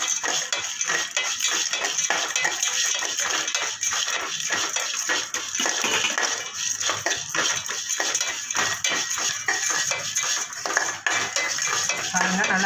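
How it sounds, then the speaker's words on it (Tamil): Mappillai samba flattened rice (aval) roasting in a pan, a steady busy crackle and scrape of dry flakes shifting against metal, close and continuous with no talk. "அவல் நல்லா பொரியுறது பாருங்கள்."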